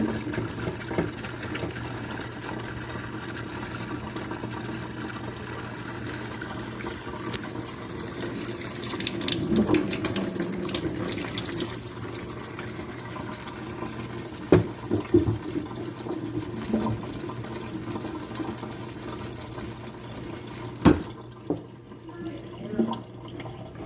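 Water runs steadily from the outlet of a newly fitted reverse osmosis filter, flushing out charcoal dust, a continuous hiss with small splashes and knocks, cutting off near the end.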